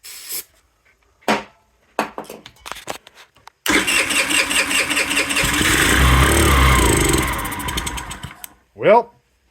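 Chinese scooter engine being started after a shot of chemical added to it: a few short cranking bursts, then the small engine catches and runs roughly for about five seconds before dying, with a voice speaking briefly at the end.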